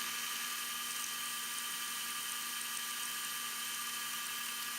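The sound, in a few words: Atlas lathe cutting tapers in brass and steel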